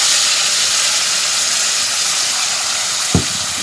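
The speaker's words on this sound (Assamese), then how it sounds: "মছলাখিনি দি দিছোঁ তেলতে" Spices hit hot oil for a soya chunks curry in a loud, steady, close hiss of sizzling that holds throughout, with one brief knock near the end.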